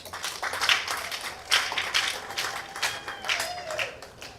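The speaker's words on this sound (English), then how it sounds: "please give Honorable another applause." Scattered audience applause at a closing ceremony for a rural women's agribusiness project, a few claps and bursts of a crowd clapping over about four seconds, with a voice heard faintly through it.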